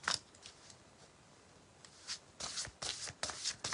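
A large deck of tarot cards is shuffled close by, a few quick riffling bursts in the second half after quieter handling at the start.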